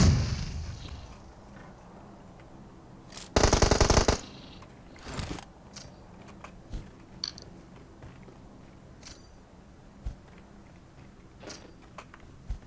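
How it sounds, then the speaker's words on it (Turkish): Grenade blasts in a PUBG Mobile match: a loud, sustained burst of explosive noise stands out after a rumbling start, followed by scattered sharp pops and thuds of gunfire-like impacts in the background. "Saldırıyoruz ben attım bombaları."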